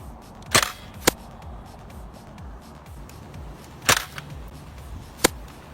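A Zuru X-Shot Turbofire toy foam dart blaster fires outdoors, with four sharp snapping shots spaced irregularly over a low background rumble, close by and without talk.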